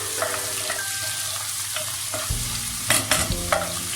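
Vegetables with thyme sizzle steadily while being sautéed in a pan for a simple soup, with clattering stirring strokes and scraping bursts over the continuous fry.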